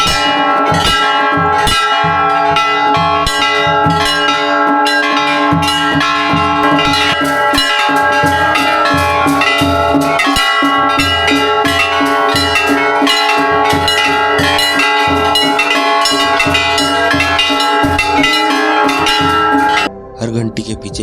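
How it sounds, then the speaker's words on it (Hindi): Thousands of temple bells at Bageshwar ring together in a loud, dense, continuous clangour that keeps on without pause for about twenty seconds, then briefly thins just before the end. "यहाँ की सबसे खास बात है ये हजारों घंटियाँ, जब ये एक साथ बजती है तो पूरी वैली में एक वाइब्रेशन फील होती है।"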